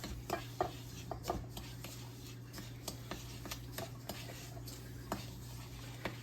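A spoon stirring graham cracker crumbs and sugar in a bowl, with soft repeated scraping and tapping at an irregular pace, faint and close over a low steady hum.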